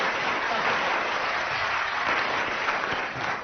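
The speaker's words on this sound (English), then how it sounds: "It should have been a loud round of applause and 3 marks" A radio studio audience gives a full, steady round of applause for a panel comedy show, sustained and dense before easing off slightly at the end.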